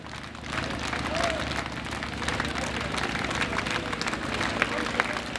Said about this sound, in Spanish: Con estos aplausos comenzó el cortejo fúnebre de Alberto Nisman.